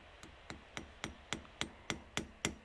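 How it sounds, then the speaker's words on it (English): A riveting hammer taps metal rivets nine times at an even, unhurried pace, each gentle, close, bright strike ringing briefly against a quiet background with no talk. "And then give a few gentle taps with the riveting hammer."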